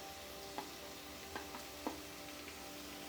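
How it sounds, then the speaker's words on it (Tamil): Mushrooms fry in butter in a pressure cooker pan with a faint, steady sizzling hiss broken by a few soft clicks and taps, and no voices. "இதிலே வந்து கொஞ்சம் நல்லா ஃப்ரை பண்ணி எடுக்கலாம்"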